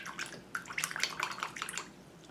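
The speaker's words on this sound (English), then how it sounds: "so I'm rinsing it out in water" Light splashing and swishing of a paintbrush being rinsed out in a jar of water, a quick series of small wet clinks and sloshes close up, with no talk.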